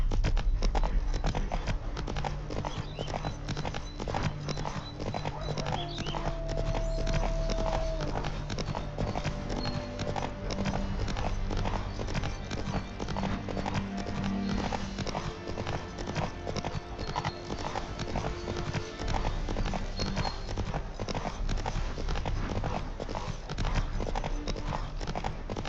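Roach, a horse in the Witcher 3: Wild Hunt video game, gallops in a steady, rapid drum of hoofbeats on the ground, close and continuous throughout.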